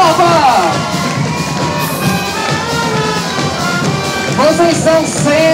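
Crowd at a Brazilian Independence Day band show in Angelim, Pernambuco, shouting and cheering continuously, with loud voices and whoops rising near the end.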